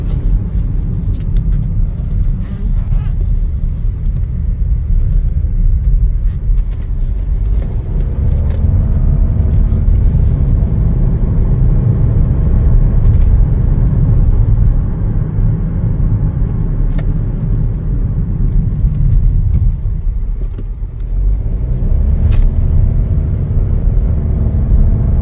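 A 2025 Chevrolet Trailblazer LT cruises along the road, its steady low engine and tyre rumble heard from inside the cabin, loud and continuous with slight swells in intensity.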